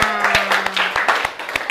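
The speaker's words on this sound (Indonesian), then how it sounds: "tepuk tangan lu dua temennya" Brief scattered clapping from a classroom of pupils applauding two classmates after a maths problem, a handful of uneven sharp claps with a voice underneath.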